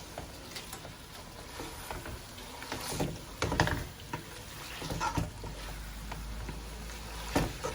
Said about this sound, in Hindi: अब इस सारे मसाले को हम अच्छी तरह से भून लेंगे।